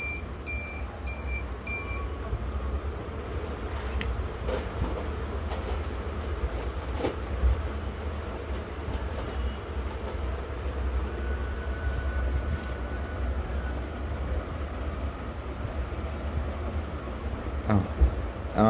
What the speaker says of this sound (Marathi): आपल्याला नोटिफिकेशनसुद्धा आलेली आहे थेफ्ट अलर्ट